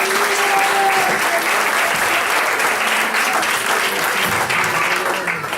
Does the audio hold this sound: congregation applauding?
yes